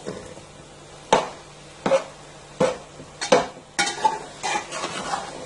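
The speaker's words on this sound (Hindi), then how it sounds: "इसको अच्छी तरह आप मिक्स कर लें" A spoon stirs semolina halwa (suji ka halwa) in a pan, making about seven distinct scraping strokes at a steady rhythm over a soft sizzle, close and clear with no talking.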